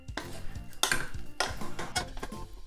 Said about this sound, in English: the rice is finished cooking. I'm gonna give it a little mix. Make sure you wet the spatula,